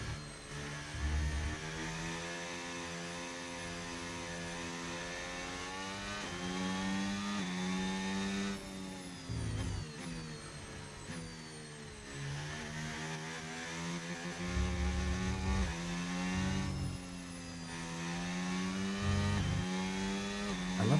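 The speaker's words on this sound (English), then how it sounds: "you just hear the turbos, you hear the air intake, you hear the sequential blow-off valve when you lift off as well." Turbocharged car engine in a racing video game, revving through rising and falling gear pulls with turbo whine, intake roar and hissing sequential blow-off valve bursts when lifting off, steady and close, no talking.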